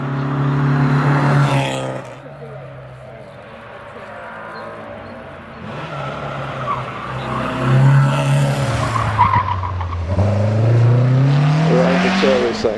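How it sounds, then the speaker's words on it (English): An MGB Roadster race car climbs the hill at the Prescott hillclimb, its engine loud and rising through the gears with tyre noise and a strong build-up of revs, and a commentator talks over it. "the MGB Roadster goes up."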